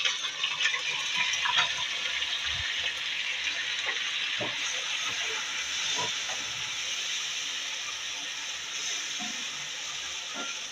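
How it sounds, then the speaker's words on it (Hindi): Onions sizzle in hot oil for kaleji masala, a steady close hiss of frying with faint crackles and a few small knocks and pops scattered throughout. "ऑयल गर्म हो चुका है, अब इसके अंदर प्याज डाल दें।"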